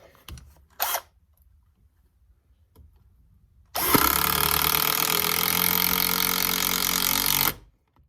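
An older Milwaukee M12 impact driver with a 4.0 battery drives a 3-inch screw, first with a brief trigger burst, then a loud continuous hammering whir lasting about four seconds before stopping abruptly, with no speech.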